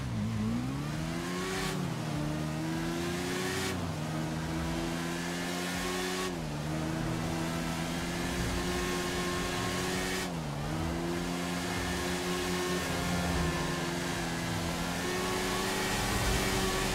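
Motorbike engine in GTA V accelerating hard during a top speed run, a steady loud revving whine that climbs in pitch, drops sharply at each gear shift, then climbs again, with no voices.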